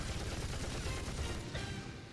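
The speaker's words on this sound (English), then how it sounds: "Bro, the Gatling! Oh, she's gonna destroy the ship he's on. He's firing back!" Gatling gun firing in an anime fight, a rapid continuous burst of gunfire, dense and rattling, fading slightly toward the end.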